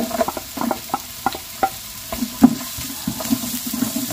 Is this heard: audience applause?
no